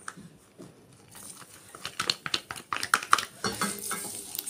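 Hand-cut garlic fries in a pan for Egyptian meat-free moussaka, a soft sizzle under clinks and scrapes as it gets stirred, then brighter crackling builds after the first second, close and steady.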